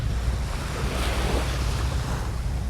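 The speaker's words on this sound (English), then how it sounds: "Listening to the water," Steady wash of ocean surf rolling onto Pattaya Beach, Thailand, with continuous broadband roar and some low wind rumble, no voices.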